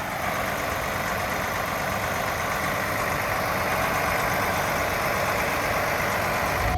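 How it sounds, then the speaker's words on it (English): A Prevost coach's diesel engine idling nearby, a steady, loud, low rumble with an even mechanical drone that holds constant throughout, with no voices over it. "Let's just listen to some diesel music,"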